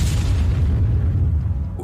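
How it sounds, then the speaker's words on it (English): A massive explosion tears apart a Russian APC hit by Ukrainian drone strikes, heard as a loud, deep, rumbling boom that fades slowly over about two seconds. "a massive explosion tore it apart"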